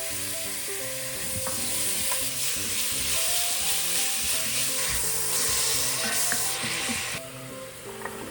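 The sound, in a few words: beef frying in olive oil in a pan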